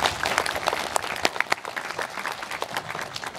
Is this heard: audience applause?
yes